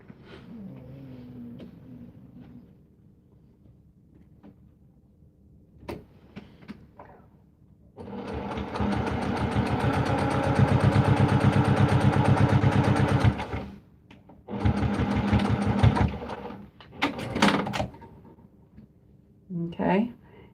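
A sewing machine stitches a fabric needle book in bursts, a long run of rapid needle clatter followed by two shorter runs, with quiet pauses and a nearby voice talking between them.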